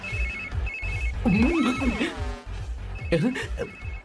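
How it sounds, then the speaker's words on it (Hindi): A mobile phone ringtone repeats its short electronic tones in a film scene, with a voice speaking over the ringing in between. "इस वक्त दीदी का फोन।"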